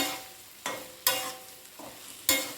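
Ground red chilli and cumin spice powder fries in a pan for an ivy gourd dish, with a soft sizzle broken by several sharp scraping stirs of a spoon at irregular intervals, close and without talk.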